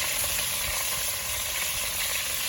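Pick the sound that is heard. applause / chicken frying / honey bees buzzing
chicken frying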